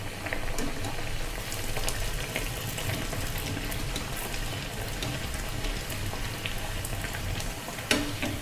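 Mangalore buns frying in hot oil give a constant dense sizzle and crackle, close and steady throughout, with a small clink near the end and no talk.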